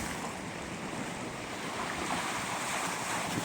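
Big ocean waves surging in a dense, steady roar of surf with wind buffeting the microphone, loud and continuous, no voices.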